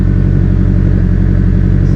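BBR 700 engine idling just after its first start on pump gas with injector tuning, a loud, close, steady rumbling idle with an even pulsing rhythm throughout.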